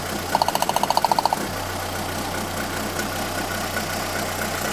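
A car engine idles steadily during an ignition system check, a low even hum after a short burst of rapid ticking pulses at the start, moderately loud and close with no talking.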